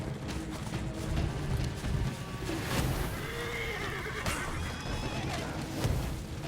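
Horses neigh and whinny repeatedly in the For Honor video game, the shrill calls rising over a dense bed of hoof clatter and battle noise, with no speech.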